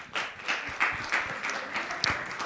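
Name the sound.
audience clapping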